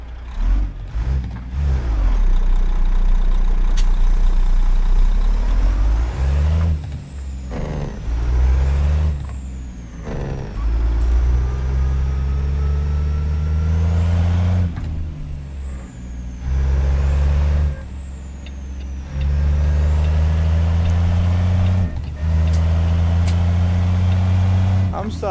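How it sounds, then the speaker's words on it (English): Diesel engine of a Kenworth W900 truck, loud and close from the cab, with repeated rising and falling revs as it shifts through gears, an air-brake hiss partway through, and people talking over it. "I'm starting to love this diesel sound though, it sounds good."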